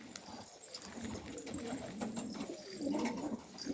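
Pigeons cooing in a loft, with low, throaty coos repeating through the clip over background rustling and faint knocks, moderately close.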